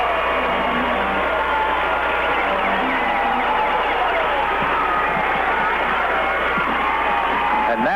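Loud, continuous roar of Johnston City fans cheering at a 1994 high school basketball game in a packed gym, a steady wall of crowd noise with whoops, under a commentator's voice.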